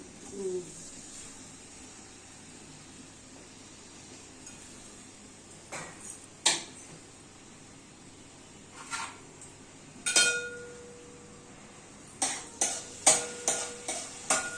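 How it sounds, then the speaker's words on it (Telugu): Chili and tomato pieces roasting in a pan, a soft sizzle beneath repeated sharp clinks and scrapes of a metal spoon against the pan, growing busier toward the end. "మిర్చి పీసులు టమాటా పీసులు రోస్ట్ కావాలి"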